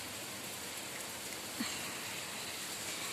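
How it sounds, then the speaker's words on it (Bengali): Steady rain pours down outdoors as a dense, even hiss of drops, with one faint thud partway through and no voices. "এই দেখো বৃষ্টি পড়েই যাচ্ছে, পড়েই যাচ্ছে।"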